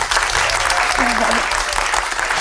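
Steady studio audience applause on a Turkish late-night talk show, a dense wash of clapping that fills the whole stretch at even loudness, with a brief voice murmuring underneath.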